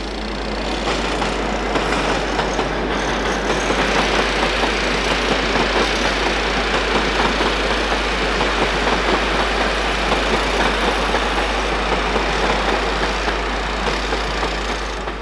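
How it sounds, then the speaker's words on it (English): A British Rail Class 47 diesel locomotive on a cross-country train at York, its engine throbbing in a steady, loud, continuous drone with a deep low hum throughout. "Class 47s appear here on cross-country trains as well as freight"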